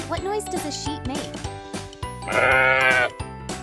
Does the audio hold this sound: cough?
no